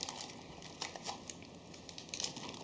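A flexible RGB LED matrix panel, 120 by 595 mm, is bent and rolled by hand. It gives a close, steady crinkling and rustling with small sharp crackles scattered throughout, and no voices.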